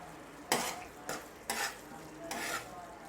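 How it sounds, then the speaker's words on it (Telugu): A spoon sweeps through a thick, creamy garlic chicken sauce with green onions and coriander, making four distinct scraping strokes against the pan over a soft background sizzle. "ఇప్పుడు మనం ఇందులో గ్రీన్ ఆనియన్స్ అండ్ కొంచెం కొరియాండర్ వేసుకొని మళ్ళీ కలుపుకుందాం"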